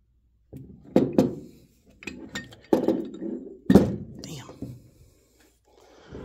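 A heavy Doyle 4-1/2 inch ductile iron bench vise, thick with grease, handled on a bench: a series of close metallic clinks and dull thunks in irregular bursts, with soft sounds of movement between them.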